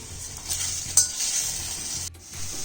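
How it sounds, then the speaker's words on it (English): Tomatoes and a small piece of ginger sauté in a pan for paneer butter masala, a low steady sizzle with a few light spoon clinks and scrapes against the pan, close and fairly quiet. "So we'll just saute it for some time till the skin of the tomatoes are out."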